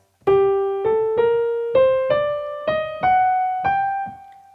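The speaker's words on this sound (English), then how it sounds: "So essentially each group of 2 quavers will sound something like this." Eight notes rise step by step in an uneven long-short swing rhythm, each with a sharp attack and clear ringing tone, played alone.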